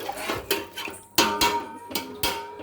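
A metal lid clanks onto a cooking pot of salted water for pulao, several sharp metallic knocks and rattles at irregular intervals, close and fairly loud, with faint ringing between hits.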